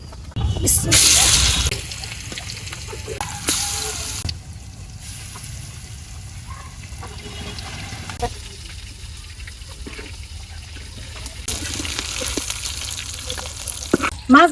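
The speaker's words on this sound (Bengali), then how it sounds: "এখন মাছ ভাজা বয় দেই" Pangas fish, rubbed with turmeric, chili and salt, frying in hot oil in a wok, giving a steady close sizzle that swells loudly at the start and again near the end, with a few stirring clatters.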